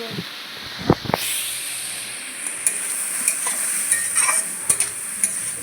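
Mutton curry with turmeric stirred in a pan over a medium flame, a loud steady sizzle and hiss with repeated sharp scrapes and knocks of the spoon against the pan.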